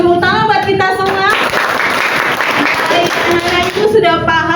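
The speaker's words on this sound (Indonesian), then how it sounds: "Tepuk tangan buat kita semua." Students applaud in a classroom, a loud burst of clapping in the middle, with a teacher's voice before and after.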